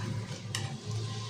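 Tomato rasam boils on a stove, a soft continuous bubbling and simmer with a faint clink near the middle and no talk.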